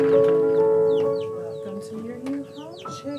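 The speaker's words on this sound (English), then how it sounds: "Whether you have 3 chickens" Chickens cluck and chatter close by, a busy overlapping run of short throaty calls with a few higher squawks.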